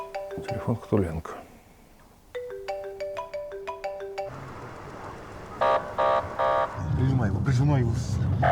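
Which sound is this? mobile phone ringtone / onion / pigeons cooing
mobile phone ringtone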